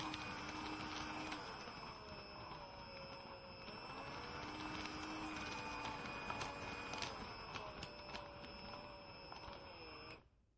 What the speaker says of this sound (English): stuck them in my drill like this, give them a little spin, and now they work pretty good